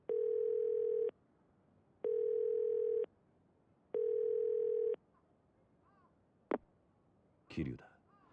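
Payphone dial tone in the video game Yakuza 0: three steady, loud tone bursts about a second long with short gaps between, followed by a couple of sharp clicks and a brief rustle.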